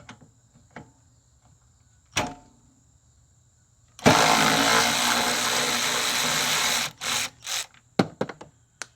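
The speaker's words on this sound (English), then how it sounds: "That's when I might have to use my battery powered wrench on." A battery-powered wrench works on a Murray 22-inch push mower, model 22526x92a, during wheel work. It gives one loud, close whirring burst of about three seconds, with scattered metallic clicks and knocks before and after.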